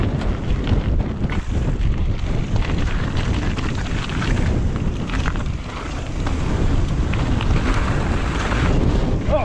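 Strong gusting wind roars across the microphone while mountain biking on a windy day at Curt Gowdy State Park, Wyoming, a loud, continuous rumbling buffet that fills the whole stretch with no talk.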